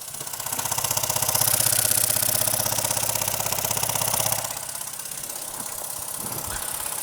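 A Mamod SP2 model steam engine runs steadily with an even, smooth mechanical chugging and hiss, no knocks, fairly close, settling slightly quieter near the end.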